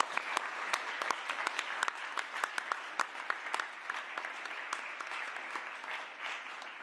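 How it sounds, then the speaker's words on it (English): An academic conference audience applauds, many hands clapping in a dense, even patter at moderate distance, sustained for several seconds and easing slightly at the end. "So I wanted to give them a round of applause."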